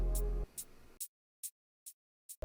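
The Doom hi-hat sample, played dry without its porcelain effect, gives a handful of short, bright ticks spaced about half a second apart after a fading tail of a denser textured sound.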